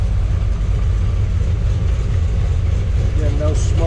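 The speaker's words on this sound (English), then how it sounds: "Take you back to listen to the exhaust." Exhaust of a restored 1957 Chevrolet Nomad restomod running at idle, a deep, steady low rumble heard close up at the tailpipe, with a brief voice near the end.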